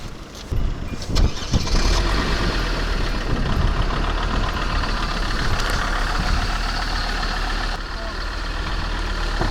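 Four-wheel-drive vehicle engine running close by, a rough steady idle that picks up as it drives off, with people talking over it at times.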